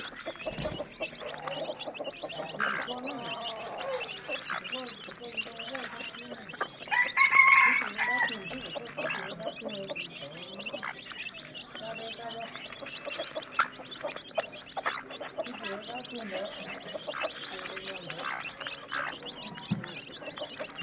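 Chickens and chicks cluck steadily and close by, and a rooster crows loudly partway through, with scattered voices in the background.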